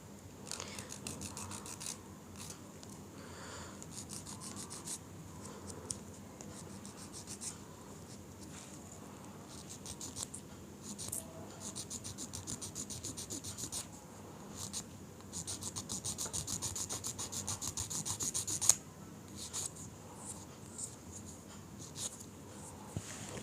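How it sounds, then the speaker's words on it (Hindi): Fake nail edge being filed into shape with steady, fine rasping strokes, close and fairly quiet, continuing without pause and with no talking. "आराम से इस नेल शेप पर से ये घिस जाएगा"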